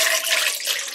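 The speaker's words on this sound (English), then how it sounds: "Place the eggs into a pot and add enough water to cover the eggs." Tap water rushes into a cooking pot holding eggs on a stovetop, a loud, steady, close gushing pour that fills the whole moment.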